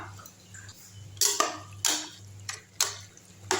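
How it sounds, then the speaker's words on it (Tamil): A spoon scrapes and knocks against a pot as cooked pasta is stirred with roasted gram, giving several distinct clinks spaced about half a second apart over a low steady hum, with no voices. "இப்போ இதில் வந்து பொட்டுக்கடலையை போட்டுடணும் நல்லா கிண்டி விட்டுடலாம்"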